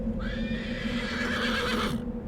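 A horse whinnies once, a loud, close, quavering neigh of about two seconds rising and falling over a steady low background hum.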